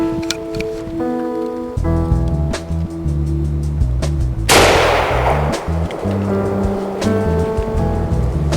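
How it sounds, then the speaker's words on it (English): A single loud rifle shot fired at a doe during opening-day deer hunting in Pennsylvania, a sharp crack midway through followed by a long rolling echo, with a low steady rumble around it before and after. "Here, let me shoot her."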